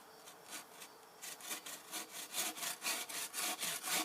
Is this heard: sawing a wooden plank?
yes